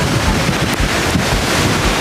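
Ocean waves surging onto a Puerto Rico beach, a steady loud wash of surf mixed with heavy wind buffeting the microphone, continuous with no talking.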